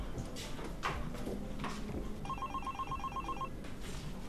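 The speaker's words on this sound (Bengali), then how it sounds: "ফোন" A telephone bell rings in a short rapid electronic trill lasting about a second, fairly faint amid quiet background rustle in an indoor drama scene.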